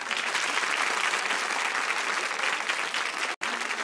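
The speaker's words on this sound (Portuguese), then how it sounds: "aplausos para o gênio eterno" Audience applauds in a studio during a television talk show, dense sustained clapping from a crowd that continues evenly and cuts off sharply for an instant near the end.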